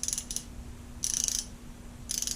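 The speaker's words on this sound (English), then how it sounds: "ratchet wrench, okay, that fits onto these" A hand ratchet wrench clicks in three short, crisp bursts of rapid ratcheting, close up over a steady low hum, with no talking.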